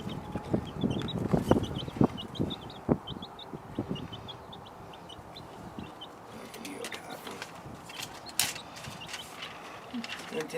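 Newly rescued chickens give soft repeated clucks in the background of an animal-rescue visit, faint and intermittent under people talking, with handling clatter and knocks.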